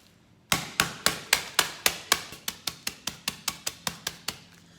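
Hammer blows crushing a pack of ramen noodles inside a plastic bag, about seventeen sharp, evenly spaced cracking hits in steady rhythm, loud and close with nothing else heard.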